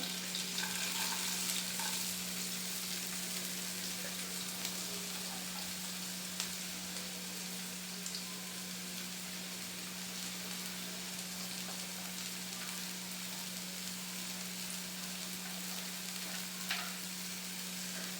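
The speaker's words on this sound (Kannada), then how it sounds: "ಸೊ ಇದು ಚೆನ್ನಾಗಿ ಫ್ರೈ ಆಗ್ತಾ ಇರಲಿ" A continuous, even sizzle of chopped onions frying in a pan with chilli, steady and moderately loud with a faint low hum underneath, no talking.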